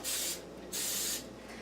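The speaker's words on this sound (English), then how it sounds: "we're going to spray each cup with our Vegeline" Vegeline cooking spray hisses into the cups of a muffin pan in two short bursts, separated by a brief pause, close and fairly loud with no talking.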